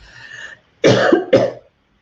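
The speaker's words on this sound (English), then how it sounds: "I'm just going to cough one moment." A faint murmur, a brief pause, then two loud, close coughs in quick succession, harsh and chesty.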